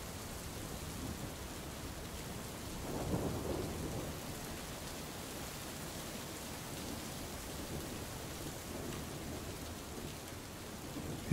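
A rumble of thunder swells briefly amid steady, lashing rain that hisses continuously on surfaces, the downpour dense and moderately loud throughout with no voices.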